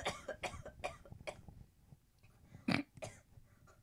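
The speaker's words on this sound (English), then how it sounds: "You're coughing in the background." Someone coughs repeatedly in the background, a series of short, harsh bursts followed by a louder throaty hack, fairly faint and close to the microphone.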